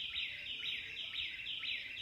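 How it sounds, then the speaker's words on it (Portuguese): A small bird sings a steady run of repeated bright chirping phrases at an even rhythm. The song is moderately distant and faint, heard alone over quiet background hiss. "Passarinho cantando"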